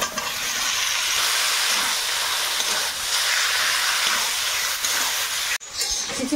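Chicken pieces go into hot spiced oil in a pan, raising a loud, steady sizzling hiss that runs without pause until it cuts off abruptly near the end.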